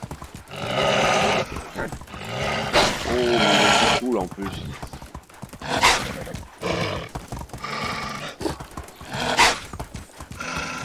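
Horse hooves clip-clop and a horse neighs in the Medieval Dynasty video game, with bursts of game sound interrupted by someone speaking French over them.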